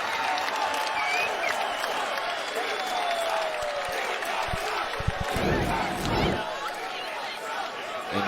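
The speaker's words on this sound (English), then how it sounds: "Well, we've got a standing ovation." A basketball arena crowd at a college game between Utah State and UNLV rises in a standing ovation, loud sustained applause and cheering that swells near the end, with a commentator speaking over it.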